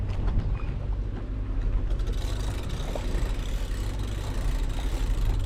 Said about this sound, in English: switching on the engine